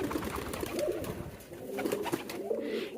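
Pigeons cooing softly nearby, with low, rolling coos repeating in a gentle rhythm over a quiet background hum.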